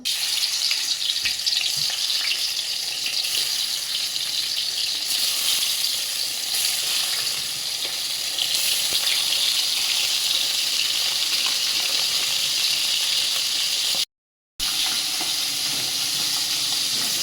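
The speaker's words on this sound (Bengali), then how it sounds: "কই মাছটা ভাজা করে দিব" Koi fish (climbing perch) fries in hot oil, giving a continuous loud, bright hiss and crackle that holds steady throughout with one brief dropout near the end; close by, no voices.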